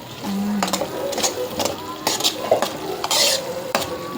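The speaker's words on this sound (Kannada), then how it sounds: "ಎಣ್ಣೆ ಬಿಟ್ಟದ ಚಲೋ ಫ್ರೈ ಭೀ ಆಗ್ಯದ" Cauliflower fries in oil and is stirred in a pan during Uttar Karnataka-style home cooking: a steady close sizzle with repeated scraping strokes, and a voice speaks briefly.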